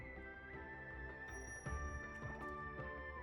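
A bell chimes in the video game Infinity Nikki, a faint ringing over soft layered game music and ambience.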